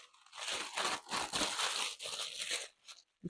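Parchment paper crumpled by hand during holiday cookie baking, a close, loud run of crinkling and crunching bursts lasting about three seconds before it stops, with no speech.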